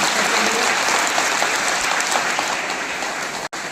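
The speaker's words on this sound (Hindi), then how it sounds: "जोरदार ताली बजाएं" Loud, sustained applause fills the hall at Khan Sir's retirement ceremony, a thick wash of many hands clapping at once that stays strong throughout and cuts off abruptly just before the end.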